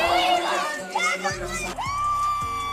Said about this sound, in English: Look at the crowd here.